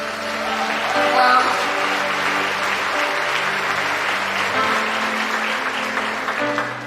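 A church congregation applauds steadily, a dense, sustained wash of clapping from a full room that carries on without a break from start to finish.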